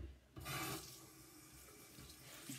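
Tap water runs steadily into a bathroom sink while a face is rinsed, with a louder gush early on and gentle splashing afterward, close by and without any talking.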